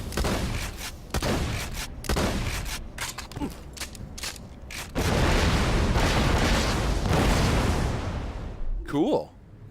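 Grenades lobbed from a Jacko cannon in a video game go off in a rapid run of loud booms and bursts, layered with dense game effects and some talk.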